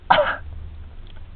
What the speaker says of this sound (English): She feigned a fake cough.